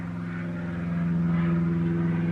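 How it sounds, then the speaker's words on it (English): A low-flying airplane passing overhead, its steady engine drone with strong low harmonic hum growing slightly louder and continuous throughout, no talk. "and lots of airplanes."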